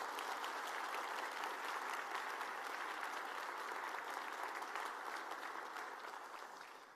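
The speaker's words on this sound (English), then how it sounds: "give them a round of applause for the work they do for our community" Sustained applause from a large audience at a Sioux Falls state of the city address, honoring city council members; steady dense clapping with no talk over it, fading slightly toward the end.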